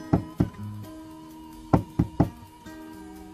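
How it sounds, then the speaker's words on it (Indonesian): Knuckles rap on a hotel room door in two bursts of sharp wooden knocks: two or three quick knocks, a pause, then three more. Soft background music plays underneath. "Ia kemudian mengetuk-ngetuk beberapa kali."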